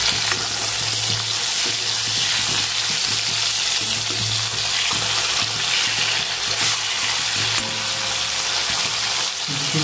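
Pieces of Bhola fish frying in hot oil, a continuous close crackling sizzle with occasional stirring and spatter, steady and loud throughout with no talking.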